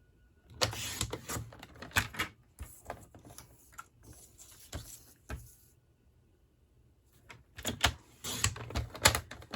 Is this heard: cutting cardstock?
yes